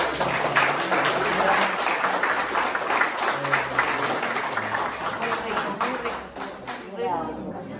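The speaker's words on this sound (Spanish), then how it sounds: "compartir un fuerte aplauso porque nos acompañó" An audience at a Spanish-language talk gives a strong, sustained round of applause, dense clapping that holds steady before tapering off near the end.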